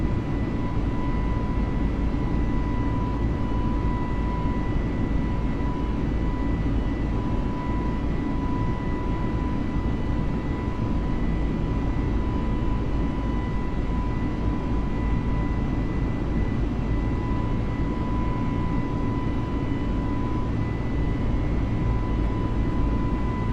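Steady, unbroken jet engine drone from an Airbus A320neo climbing out of London in Microsoft Flight Simulator, a constant roar with a faint tonal whine running throughout and no voices.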